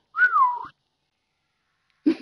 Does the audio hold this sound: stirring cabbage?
no